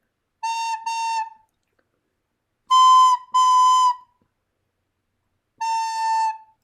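A whistle sounds three clear notes: one doubled tone, a higher pair of sustained notes, then a final held note, each crisp and alone against silence.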